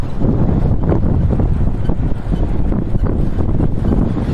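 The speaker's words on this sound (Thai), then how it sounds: "เสียงลมแห้ง ปั่นจักรยานกับบ่ไปมันนั่น ลมมันสวนทาง" Dry wind buffets a microphone while someone cycles into a headwind on a countryside ride, a loud, steady rumbling roar with uneven gusts and no speech.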